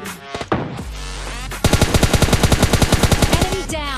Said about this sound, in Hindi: लेकिन तभी पीछे से गन साउंड्स आते हैं